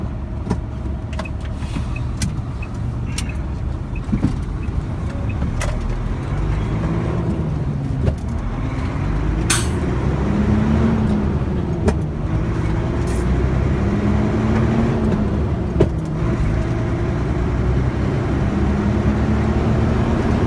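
A Sinotruk truck engine downshifting through the gears as the truck slows, a steady low diesel drone whose pitch dips and climbs again with each gear change, heard close from inside the cab.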